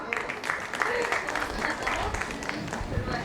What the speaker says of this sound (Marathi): त्यांच्या स्वागतासाठी सगळ्यांनी टाळ्या वाजवा.